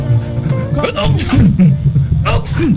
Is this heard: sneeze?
yes